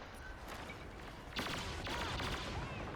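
Burst gunfire in a shooter video game erupts about halfway in as a loud, rapid rattle of shots, continuing steadily over a low background rumble.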